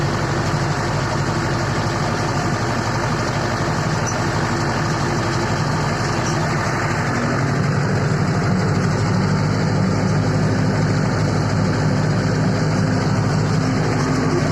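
A DTZ 5404K tractor engine running steadily during spraying of small plots, a continuous low diesel rumble with constant vibration, loud and unbroken throughout.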